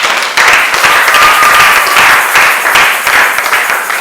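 A church congregation bursts into sustained applause and clapping to acclaim Jesus, a dense, loud wash of hands from start to finish with a faint high whistle or voice tone briefly cutting through.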